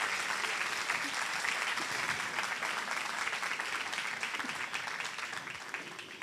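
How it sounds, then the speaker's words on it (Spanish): An audience at an education congress panel claps for the presenters, a dense and steady wave of applause that holds evenly throughout before easing slightly at the end. "es un aplauso para las chicas"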